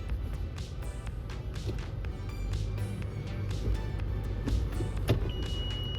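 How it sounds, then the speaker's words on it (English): Actuator engaging the front differential after the 4WD lever is pulled back inside a Toyota FJ Cruiser: a soft motor whir with faint clicks over a steady low cabin hum, no talking. "Gonna go ahead and pull back our 4-wheel drive lever."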